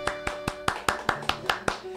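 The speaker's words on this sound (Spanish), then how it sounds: "vamos a pedir un aplauso para él" Steady, evenly spaced hand claps, about nine in two seconds, close and crisp, welcoming a guest on a folklore music program; it sounds like one person or a small group clapping in rhythm rather than a full crowd.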